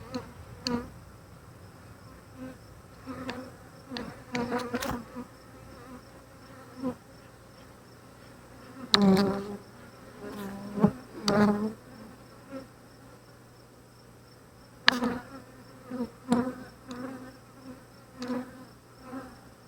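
Honeybees buzz around an open Flow Hive during an inspection, with intermittent close passes over a soft background hum, broken by handling clicks and knocks from the frames.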